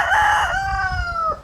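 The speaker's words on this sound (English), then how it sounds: "I take time to record the hens and roosters." A rooster crows once, loud and close, a long drawn-out call that rises and then trails off, with low clucking from hens underneath.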